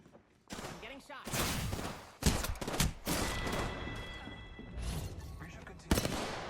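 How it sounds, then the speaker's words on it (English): Rapid bursts of gunfire rake the player in the Apex Legends battle royale shooter, loud clustered volleys and sharp impacts repeating across several seconds amid dense game noise. "I'm getting shot."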